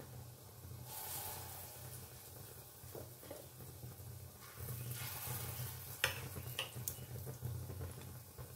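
Ridge gourd fritters frying in hot oil over a medium flame: a steady bubbling sizzle with occasional sharp clicks and stirring clatters, close by and at moderate volume.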